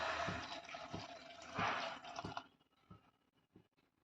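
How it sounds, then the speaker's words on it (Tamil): Water pours steadily into a cooking pot of vegetables for about two seconds, then stops, leaving a few soft knocks and drips. "காய் வேகிறதுக்கு தேவையான அளவு தண்ணி ஊற்றிக்கலாம்"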